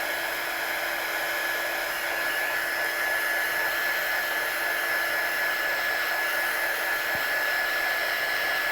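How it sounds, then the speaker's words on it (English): A heat tool blows a steady, loud, unbroken roar while drying watercolour on card, continuous for the whole stretch with no voices. "we always say don't waft the heat tool around when you're using embossing powders"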